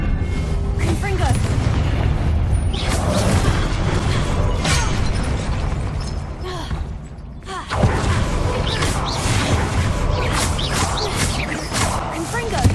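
Confringo blasting spells explode again and again during a Hogwarts Legacy duel, with heavy booms and crackling bursts layered over continuous combat noise, and a voice calls out over the din.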